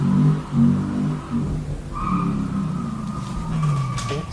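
Tires screeching and an engine revving during a car burnout in the video game Yakuza 3 Remastered, a droning motor note under a rising whining squeal and scraping skid, sustained and fairly close, without voices.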